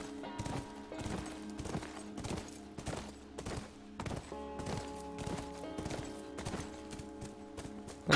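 Horse hooves clip-clop in a steady rhythm through The Last of Us video game as the rider moves along, with sustained tonal game ambience beneath the close, repeated strikes.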